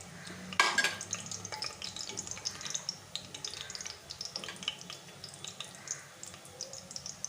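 Whole spices, bay leaves, black and green cardamom, cinnamon and cloves, sizzle in hot oil in a pan for mutton korma, with soft crackling and scraping stirs and a sharp clink near the start, fairly quiet.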